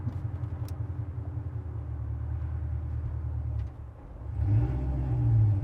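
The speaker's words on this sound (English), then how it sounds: "Going over 2 speed bumps. I do it on purpose." A 2017 Corvette Z06 rolling over a speed bump, a low steady engine rumble from inside the car with a brief dip and then a louder swell, no talking.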